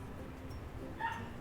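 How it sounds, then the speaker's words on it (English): A neighbouring puppy barks once from nearby, a short, bright yip rising briefly above a steady low background hum. "dog next door is barking."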